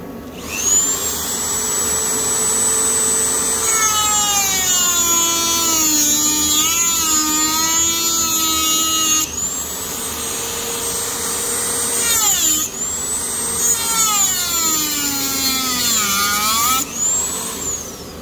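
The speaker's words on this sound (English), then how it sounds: "I'm going to get my Dremel on them, put a nice slot in there" A Dremel rotary tool cuts a slot into a bolt on an Alfa Romeo 156 GTA engine. Its loud high whine runs steadily, and the pitch sags and wavers each time the cutting disc bears down on the metal, in two main cutting passes.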